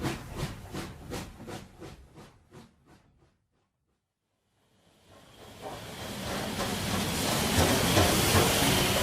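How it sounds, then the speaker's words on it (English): Steam train from a farmyard story puffs along, first with a series of evenly spaced chuffs that fade into a pause, then a loud, steady rushing hiss of steam and rolling wheels builds and holds. "The train puffs along."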